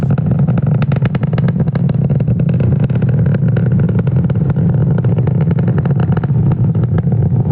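A SpaceX Falcon 9 rocket climbing during a Starlink Group 6-5 launch from SLC-40 at Cape Canaveral gives a loud, continuous low roar with a crackling texture, steady throughout.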